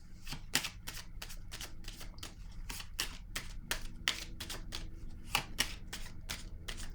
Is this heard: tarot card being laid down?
yes